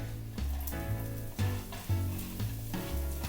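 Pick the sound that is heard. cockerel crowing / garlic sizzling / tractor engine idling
garlic sizzling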